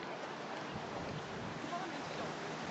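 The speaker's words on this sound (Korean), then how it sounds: "이거 찾는데 왜 바람 소리가 들리지?" Wind buffets the microphone outdoors at Yeouido in Seoul, a low, steady, broadband rumble and hiss filling the whole stretch, fairly quiet with no clear voices.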